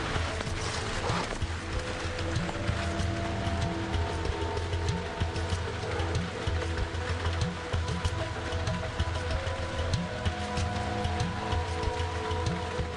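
Heavy rain on an airliner in a cockpit during final approach, a steady dense hiss over low engine drone that runs the whole time without speech.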